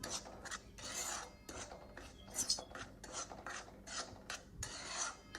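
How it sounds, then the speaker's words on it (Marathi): Dry semolina (rava) roasting in a pan over a low gas flame while being stirred, giving repeated soft rasping scrapes in an uneven rhythm, close and moderately quiet, with no talking. "आपल्याला हा रवा 5 मिनिटं कोरडा भाजून घ्यायचा आहे"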